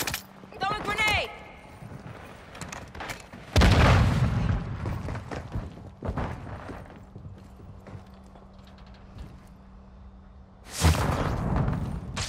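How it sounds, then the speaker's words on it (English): A thrown grenade bursts with a loud, deep boom in Call of Duty: Modern Warfare II, followed later by a second heavy blast, amid clattering gameplay sounds and a brief voice near the start. "Throwing grenade"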